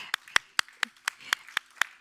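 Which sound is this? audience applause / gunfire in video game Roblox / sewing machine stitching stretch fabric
audience applause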